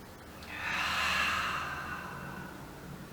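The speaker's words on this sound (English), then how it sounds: "in through our nose and out through our mouth with a nice big ha" A deep belly breath during a beginner yoga warm-up, drawn in through the nose and released through the mouth as one long, audible breathy exhale that swells and then slowly fades, close and alone.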